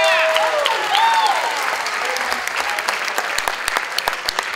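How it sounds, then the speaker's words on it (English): Wedding guests applaud the couple in sustained, dense clapping from a crowd, with a few scattered cheers and whistles over it, staying loud for the full few seconds without any talking. "Let's give them another round of applause, ladies and gentlemen."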